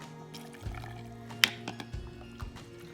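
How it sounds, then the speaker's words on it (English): Boiling water pours into a jar packed with green tomatoes, a thin trickling stream with small splashes and clinks at close range. "you're gonna fill your jar up with boiling water after you have packed the tomatoes firmly"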